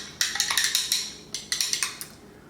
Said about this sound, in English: Get my straw, stir it on up.